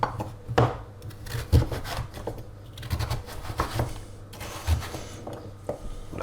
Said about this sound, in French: On va couper la patate douce en petits cubes.